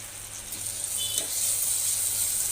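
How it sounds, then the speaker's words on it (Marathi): Ginger-garlic paste and turmeric sizzle in oil directly inside a pressure cooker for mutton paya soup, a steady close hiss that swells slightly, with no talk. "आपण याला डायरेक्ट कुकरमध्येच फोडणी देतो आहे"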